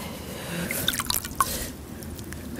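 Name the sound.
washing a molasses face mask off with water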